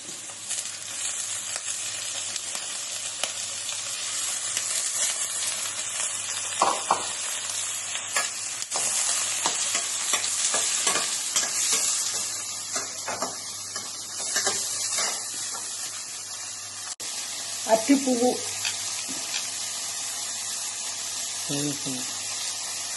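Banana flower stir-fried in a tempering of mustard seeds, onions and soaked moong dal, crackling and sizzling continuously under frequent scraping spatula strokes, with a few brief voice sounds in between.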